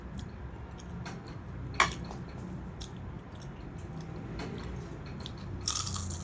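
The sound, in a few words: biting and chewing crunchy fried food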